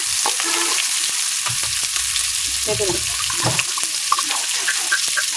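Chopped onion and garlic, with a whole green chilli, fry in a pan with a steady sizzle, close and fairly loud, broken by occasional stirring clatter.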